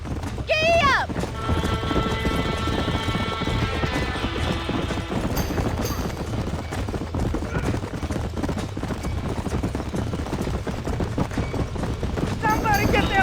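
Horses gallop in Red Dead Redemption as a barn burns. Fast, continuous hoofbeats are heard along with a whinny, and people shout over the commotion.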